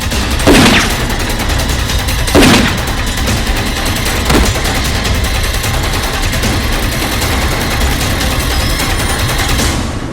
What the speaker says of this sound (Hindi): पुलिस के साथ फायरिंग हो रही है।